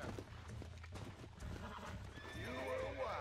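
A horse being tamed in the Red Dead Redemption video game neighs and whinnies shrilly toward the end, over hoof clops and a low, busy game background; no one speaks.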